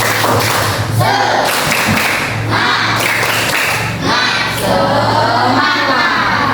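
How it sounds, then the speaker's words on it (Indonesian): A class of young schoolchildren performs the tepuk semangat rhythmic clap in their classroom, several loud, close bursts of group clapping in patterned beats mixed with chanting voices. "Tepuk semangat."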